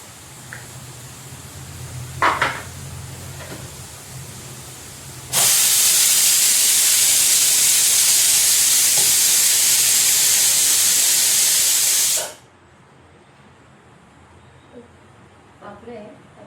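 Oil hits a hot pan while biryani is cooked and bursts into a loud, steady sizzling hiss lasting several seconds before cutting off sharply. Someone speaks before and after it.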